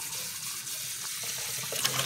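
Water from a kitchen tap runs in a steady gentle stream, a soft continuous hiss and splash, close by, with no talk over it.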